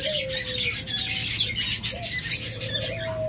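Caged lovebirds and budgerigars at a bird seller's stall chirp and tweet continuously, a busy overlapping chorus of high calls with occasional whistles, fairly close and steady throughout.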